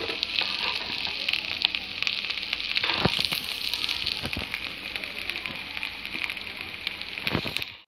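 Amla (Indian gooseberry) sautéing in hot oil in a pan gives a continuous bright sizzle and crackle, with a few sharp clicks of stirring, close and steady with no voices.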